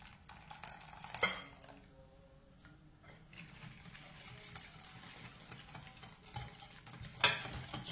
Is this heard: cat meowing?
no